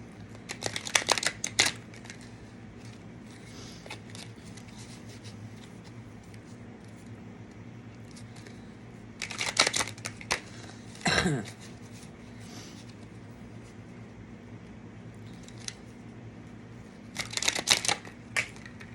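Enchanted Map Oracle cards being shuffled, with several short bursts of crisp riffling and flapping, the clearest near the start, in the middle and at the end, plus a quick sweeping flick, over a steady low hum with no talk.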